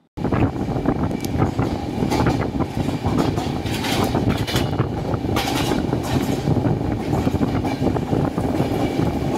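A passenger train runs at night near Bardhaman, giving a steady loud rumble and rattle of wheels on track with wind buffeting, continuous and close throughout.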